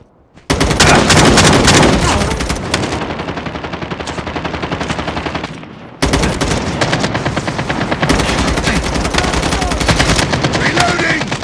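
Rapid automatic fire from a deployed turret in a video game, loud and dense, running almost continuously with a brief break midway before resuming. Gunfire fills the whole stretch with no clear voices.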